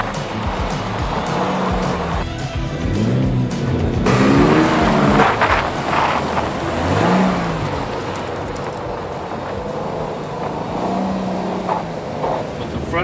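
A 2022 Subaru BRZ oversteers on winter roads, its engine revving up and down with swelling throttle surges and tire noise, loud and close, with a voice briefly heard.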